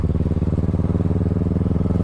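A Kawasaki 650 big bike running close by, a steady, throbbing engine drone with rapid regular pulsing and a low rumble, holding an even pitch throughout with no talk over it.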